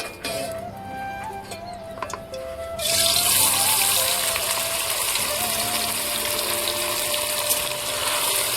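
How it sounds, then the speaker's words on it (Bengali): Paneer pieces drop into hot oil in a pan and set off a sudden loud, continuous sizzle that keeps hissing steadily after a quieter opening few seconds. "তেল গরম হয়ে গেছে, এখন আমি পনিরের টুকরোগুলো সুন্দরভাবে ভেজে নেব।"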